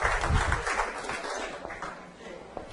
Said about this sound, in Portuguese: Gente, mais salva de palmas para o Adalberto Cavalcante.